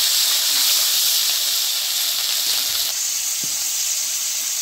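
Onion and garlic paste, ground with cumin, mustard and coriander, hits hot oil that already holds whole cumin, giving a loud, steady hiss and sizzle that carries unbroken for the whole stretch, with no talking.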